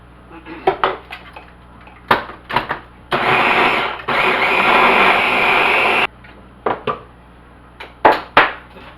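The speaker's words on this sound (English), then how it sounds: "Just gonna mix it here until it's nice and fluffy." An electric mixer beats chocolate walnut tart filling in a bowl in two steady whirring bursts of about three seconds each, with sharp clinks and knocks of utensils against the bowl before and after.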